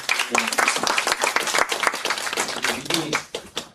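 A forum audience gives a speaker a burst of dense, lively applause that carries on steadily before thinning toward the end, with a little voice mixed in.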